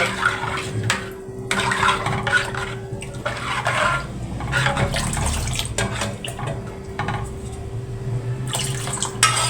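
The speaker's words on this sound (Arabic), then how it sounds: "وهنحط بقى الكيلو ونص لبن، او احط اللبن حسب ما هياخد معايا." Milk is poured into a cooking pot for homemade rice pudding, a continuous splashing, gurgling stream with some clinks of the pot, close and fairly loud throughout.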